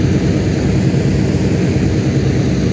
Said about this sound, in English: There's a P-51 Mustang.